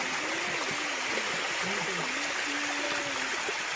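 Steady rushing water from a waterfall on a river fills the scene, a broad continuous roar with some gurgling.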